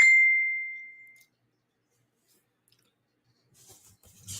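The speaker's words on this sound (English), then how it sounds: "My phone keeps going off." A single bright phone notification chime rings out and decays over about a second, then quiet follows before faint rustling and soft handling noises near the end.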